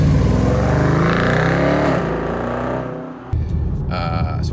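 A 5.7 liter V8 muscle car engine revving loudly up close, a deep rising roar that drops away before a brief second burst.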